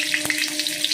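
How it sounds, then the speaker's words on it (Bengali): Cumin seeds and green chilli crackle and sizzle in hot oil in a pan, a brief hissing spatter with small pops, faint and close. "তেলটা গরম হয়ে গেছে, একটু জিরে ফোড়ন দিয়ে দিলাম, তারপরে কাঁচা লঙ্কাটাও দিয়ে দিলাম"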